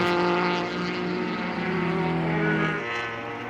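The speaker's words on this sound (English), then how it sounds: "you hear the rev limiter as we go by, just past our sound stand here" The number 165 Mazda MX-5 race car's engine screams at high revs and bounces off the rev limiter during an SCCA Super Touring Under race. It sounds loud and close as the car passes, then tails off.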